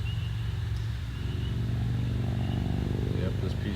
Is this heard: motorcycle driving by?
yes